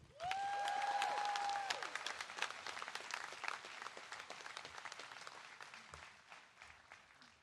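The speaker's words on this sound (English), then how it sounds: "How about another round of applause for all those exceptional prize winners, huh?" A large audience at Princeton University's 2024 Class Day claps for the prize winners in a dense, sustained round of applause. A tone rings out briefly at the start, and the clapping thins and fades toward the end.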